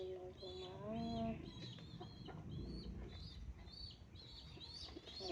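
Pigeons cooing and fluttering close by in a coop, soft and continuous for several seconds, with faint rural background noise.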